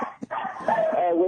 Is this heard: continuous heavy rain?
no